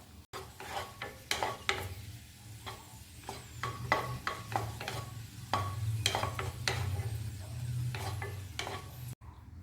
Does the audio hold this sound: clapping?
no